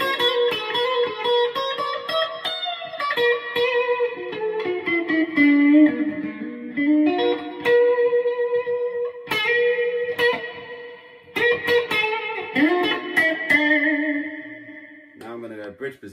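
Clean Fender Player Jazzmaster electric guitar from the middle pickup position, a longer passage of picked notes and chords with a touch of reverb, steady and unaccompanied.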